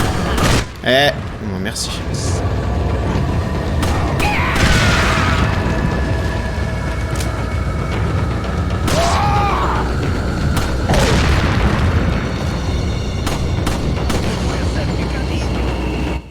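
Explosions in the video game Resident Evil 4 boom out amid game sound effects, with a player speaking briefly over the repeated blasts and rumbling bursts.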